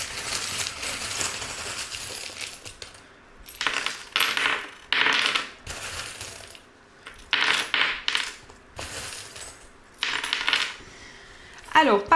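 Small metal charms used for divination are shaken and cast in several bursts, clinking and rattling closely against each other and a surface, with quiet gaps between.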